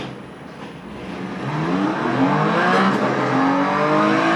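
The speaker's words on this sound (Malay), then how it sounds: "So sekarang kita bawa kereta Porsche Cayman dekat Spa punya track." A Porsche Cayman on the Spa circuit in a motion racing simulator revs up from a low idle into a loud, climbing engine drone, holding high revs with rising gear sweeps through speakers and no talk over it.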